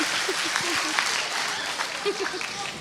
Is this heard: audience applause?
yes